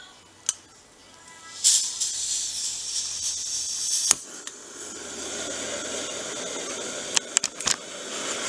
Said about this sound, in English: Get our stove turned on.